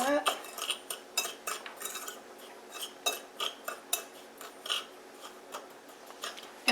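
Spoon clinking against a bowl while stirring melted butter with sugar and cinnamon for dipping muffins, giving close, irregular metallic taps and scrapes at a fairly quiet level, with no talking.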